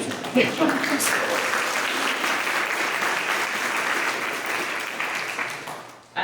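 An audience at an environmental awards reception applauds a winner, with a dense, steady round of clapping that builds quickly, holds for several seconds and then fades out.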